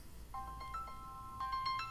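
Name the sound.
mobile phone ringing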